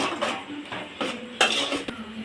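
Spoon scraping and clinking against a metal pot while curry is mixed, in several short bursts of stirring with soft knocks, close and moderately loud, no talk.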